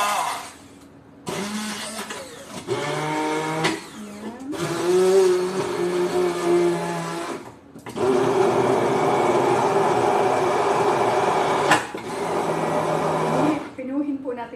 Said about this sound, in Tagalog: Blender na natin. Pinuhin po natin.